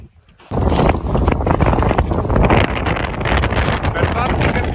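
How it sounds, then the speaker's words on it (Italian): Strong night wind on a mountain in the Velino-Sirente regional park, heavy buffeting gusts roaring across the microphone after a brief quiet start, loud, rough and continuous. "Per farvi capire di quanto vento c'è al Trentino quando ti arrivi. Questo era il vento che c'era stanotte."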